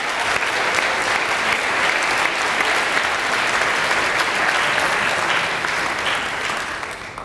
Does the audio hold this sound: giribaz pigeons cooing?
no